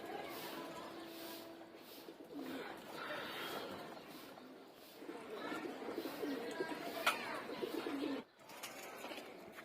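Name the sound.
pigeons cooing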